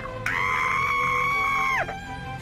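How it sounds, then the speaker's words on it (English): A person lets out a long, high, sustained scream lasting over a second and a half, sharp onset and a falling tail at the end, loud and close, with no talking over it. "Why are you screaming?"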